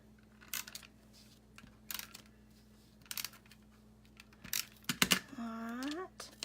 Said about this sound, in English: And I'm going to tape that down.